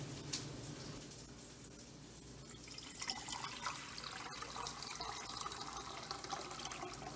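Water runs from a kitchen tap into a pot being filled for boiling, a steady rushing pour with faint drips and clinks, close and moderately quiet throughout.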